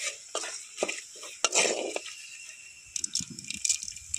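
Dried red chillies, cinnamon, cardamom, cloves and a bay leaf drop into mustard oil in a kadai, giving soft clinks, rattles and a light sizzle, with utensil scrapes scattered through.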